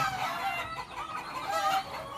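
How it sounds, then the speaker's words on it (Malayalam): Several chickens cluck and squawk close by, a busy overlapping chorus of short calls. "കോഴിക്കളെ സൗണ്ട് എല്ലാം ഉണ്ട്"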